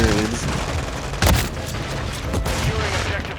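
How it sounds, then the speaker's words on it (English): Rapid automatic sentry gun fire and booming mortar strikes rattle through a Call of Duty Modern Warfare III multiplayer match, sustained dense gunfire with a sharper blast near the middle. "they are literally spamming us with sentries and mortar strikes"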